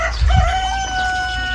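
A rooster crows loudly and close by among farm chickens, a single drawn-out call held with a steady pitch, with low thumps at the start.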